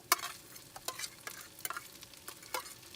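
Kebab meat frying in a pan while being stirred and scraped, with a steady faint sizzle under repeated sharp scraping strokes spaced roughly every half second.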